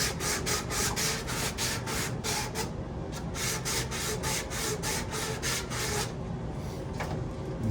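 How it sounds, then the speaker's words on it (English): Sanding a 2-inch pipe end to prepare it for a SharkBite ball valve, a close, steady back-and-forth rasping in quick rhythmic strokes with no talking. "Sand the pipe."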